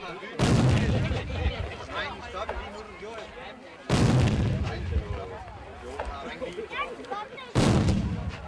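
Three loud, booming cannon shots of a royal gun salute ring out at a Danish outdoor ceremony, spaced a few seconds apart, each followed by a rolling echo while voices talk between blasts.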